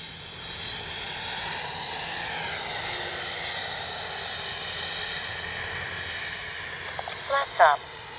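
An FMS Integral 80mm RC jet with flaps lowered passes slowly overhead, its electric ducted fan giving a steady, sustained whine at an even level, with brief voices near the end.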